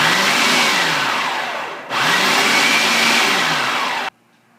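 A food processor whirs loudly and steadily while blending pie crust dough from five ingredients, with a brief dip in the motor near the middle before it cuts off abruptly, leaving near silence.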